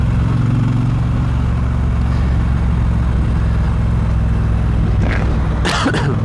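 A 2022 Triumph Bobber motorcycle rides along with a steady, low engine drone under constant wind rush, and a few short sharp bursts break through near the end.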